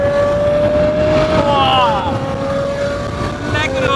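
An 840 hp supercar launches hard on cold pavement with its rear wheels spinning, a loud, sustained engine whine and roar heard up close, with people talking over it.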